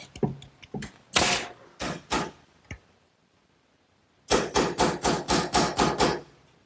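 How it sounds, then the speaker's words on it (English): A hammer drives nails at an angle into a wooden spacer on a garden swing frame: a ragged run of sharp blows, a pause, then a quick steady series of about ten close, loud strikes. "now, this spacer that I just toe-nailed in is simply there to keep these hangers from moving in"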